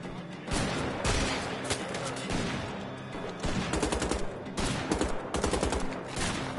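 Rapid automatic gunfire in Wolfenstein: The Old Blood, bursts of machine-gun fire repeating in clusters with brief gaps, fairly quiet overall with a voice occasionally underneath.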